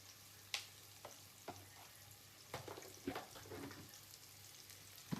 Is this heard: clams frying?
yes